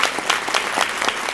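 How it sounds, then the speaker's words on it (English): Audience applause at a Team in Training gathering ahead of the Kiawah Marathon, a steady dense wash of clapping from a crowd, fairly close and even throughout. "Let's clap for our running."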